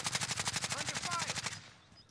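Rapid automatic gunfire from the Warzone video game, a steady stream of close, loud bursts lasting well over a second before cutting off, with a voice speaking faintly underneath.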